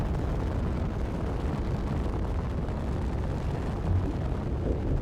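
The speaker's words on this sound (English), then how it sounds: "Artillery cannon." Heavy booming roar from an artillery cannon firing in a wasteland survival video game with railgun turrets, a dense, continuous low rumble that stays loud throughout with no talking.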